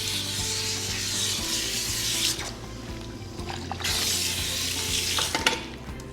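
Water runs and splashes steadily while hair with extensions is wetted, a close continuous rushing broken by a brief dip midway and shifting rubbing sounds, with no speech.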